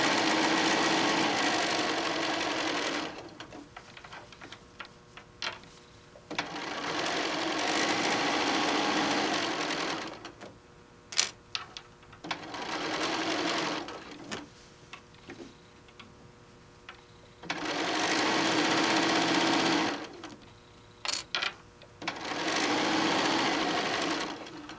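A sewing machine stitches a tote bag panel in long steady runs of rapid whirring. Short pauses and clicks separate the runs, and a brief back tack comes partway through. The machine is close and loud, with no talking.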